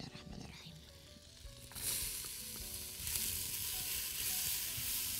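Oil and butter sizzle in a pot for potato soup, a close, steady frying hiss that swells louder partway through and stays strong to the end.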